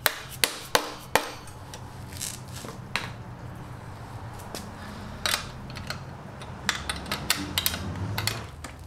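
Sharp metal taps on an adjuster bolt on a Sur Ron X electric dirt bike, several quick strikes near the start and a scattered few later, close and distinct over a quiet workshop background.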